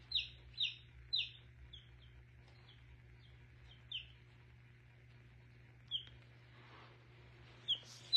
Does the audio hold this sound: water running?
no